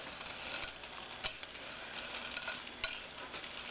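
A big spoon stirring and mixing pie filling in a bowl, giving a steady soft scraping and rustling with a couple of brief louder clinks, close and alone without talk.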